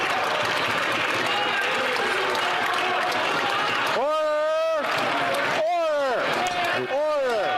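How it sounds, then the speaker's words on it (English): Applause and crowd noise fill a parliamentary chamber during question period, a dense steady din for several seconds, then a voice speaks loudly over it in harmonic bursts. "Round of applause"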